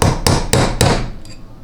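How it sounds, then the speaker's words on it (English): Metal punch struck with a hammer to drive out a bushing from a GM 200-4R transmission, four sharp evenly spaced blows close up, then a faint fifth tap as it rings off. "just take your punch and then very carefully tap all the way around until the bushing comes out"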